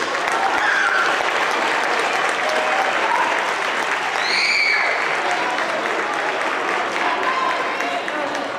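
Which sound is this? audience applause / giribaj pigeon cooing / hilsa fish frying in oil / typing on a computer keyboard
audience applause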